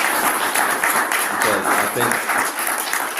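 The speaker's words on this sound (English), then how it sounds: "So round of applause to us, to the team, to all of you" Applause from an audience at a virtual hybrid alumni reunion and awards event, steady and dense clapping that fills the moment while a speaker's voice comes through briefly.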